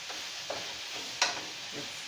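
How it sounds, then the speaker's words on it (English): Curry with wax yellow beans stirred in a pan: a soft steady sizzle runs throughout, with a few scraping stir strokes and one sharper clink of the utensil, quiet and close. "Let's stir this up first a little bit"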